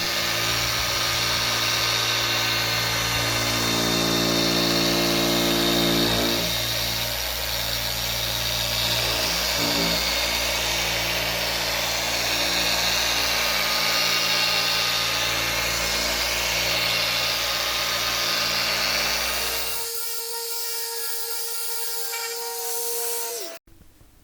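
Rotary polisher buffing a car headlight at medium speed, a loud steady whirring hum with hiss that runs continuously for about twenty seconds, then cuts out abruptly, leaving a quieter high tone before the end.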